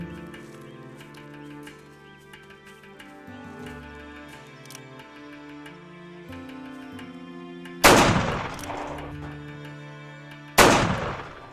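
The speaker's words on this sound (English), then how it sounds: "fire two shots from cover, just keep their heads down" Two loud gunshots fired from cover in a western film crack out near the end, spaced a few seconds apart, over a sustained musical score.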